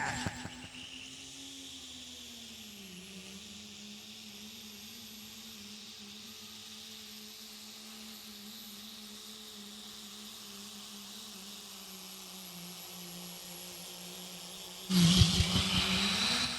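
A 2.6-class diesel pulling truck runs at a truck pull, heard as a faint, steady distant engine drone that bends in pitch early on, with a louder burst near the end.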